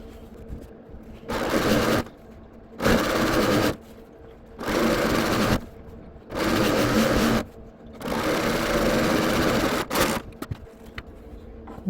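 A serger sews a quilt strip in five loud runs of rapid stitching, each lasting about a second or two, separated by short pauses with faint handling noise.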